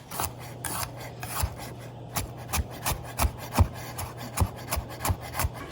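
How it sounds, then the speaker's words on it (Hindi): Garlic is chopped finely with a knife on a board, a run of quick rhythmic scraping taps that speed up and grow louder, close and without talk. "मैं इसको गार्लिक को बारीक बारीक चॉप कर रही हूँ।"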